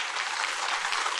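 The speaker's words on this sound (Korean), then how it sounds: "박수 한번 더 쳐보세요." Church congregation at a Sunday worship service applauding, a dense, loud, even burst of many hands clapping for a short moment with no voices over it.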